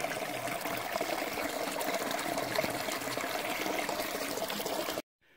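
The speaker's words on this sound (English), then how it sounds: "We get a stream, put some water in our water bag, and then we'll filter it out into a water bottle." Stream water trickles and splashes steadily as it is collected into a water bag on a mountain hiking trail, a continuous close liquid wash that cuts off abruptly near the end.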